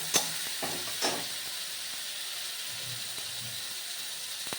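Onions and spices frying in a pan give a steady, soft sizzle close by, with a couple of sharp clinks of a utensil against the pan near the start.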